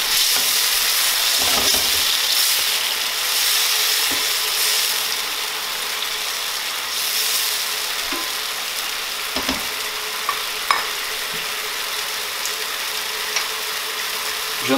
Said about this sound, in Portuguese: Vamos deixar fritar mais um pouco